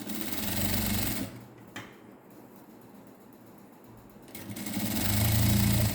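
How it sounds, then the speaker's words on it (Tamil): A sewing machine stitches the sleeve of a net blouse in loud, fast, steady runs. It stops in the middle with a brief click, then starts up again and ends strong. "கைக்கு நான் இன்னொரு தையல் போடுறேன்."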